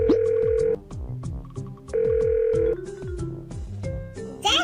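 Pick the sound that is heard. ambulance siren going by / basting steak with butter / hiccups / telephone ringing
telephone ringing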